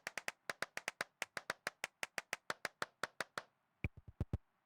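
Close, loud hand clapping in an abandoned church: about twenty quick, regular claps with a short reverberant tail, a brief gap, then a few heavier, duller claps to finish.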